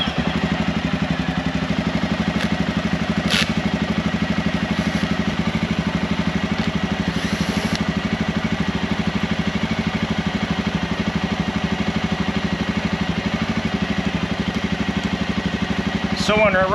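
An ATV engine runs at a steady idle after starting, a close, continuous rhythmic clatter that holds evenly throughout with a few faint higher noises above it.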